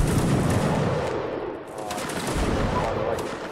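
A volley of musket fire in a video game line battle, dense crackling gunfire bursts close by and loud, filling the short stretch with rolling reports.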